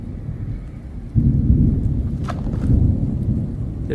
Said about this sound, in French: les orages sont en train de se former juste au-dessus de moi